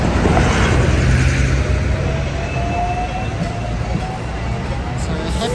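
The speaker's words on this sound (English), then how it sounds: "Oh, here we are, we've got a tram." A Hong Kong tram passes along a street in Happy Valley, a continuous loud rumble of wheels and traffic noise with faint squeals, heard up close without talk.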